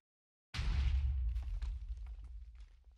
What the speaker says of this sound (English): Oh, was there a massive explosion just here?